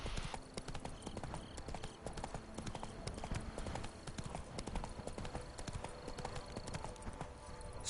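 Horse hooves clip-clop at a steady gallop in The Witcher 3 video game, a dense, continuous drumming of hoofbeats heard up close and loud throughout, with no talking over it.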